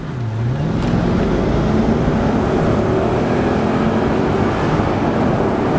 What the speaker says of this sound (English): I don't know if you could hear that sort of V8 scream of rage.